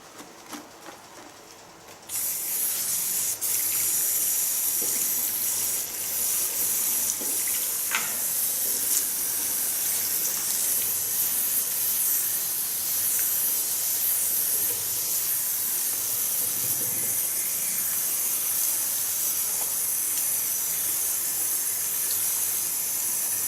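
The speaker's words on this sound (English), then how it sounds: "Rinse the shampoo out of her hair." Water sprays steadily from a salon shower head while shampoo is rinsed out of a client's hair at a hair salon, a loud continuous hiss starting after a brief quieter moment and running unbroken to the end.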